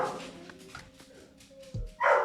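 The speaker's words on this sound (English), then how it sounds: "the dog heard the beep and he's not happy about it" A pet dog gives a short, close bark or yelp near the end, reacting indoors to an electronic delivery beep at the front door; a soft background hum runs throughout.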